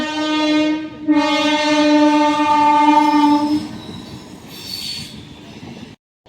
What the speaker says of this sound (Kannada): ಇಲ್ಲಿ ಟ್ರೈನು ನಿಂತ ಟ್ರೈನ್ ಹೊಂಟದ